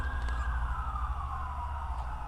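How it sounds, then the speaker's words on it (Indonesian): An ambulance siren wails loud and steady, its tone gliding slowly downward as it passes close overhead, with a strong low rumble beneath and no talk. "Suara ambulan kan? Ada di atas gue men ambulan."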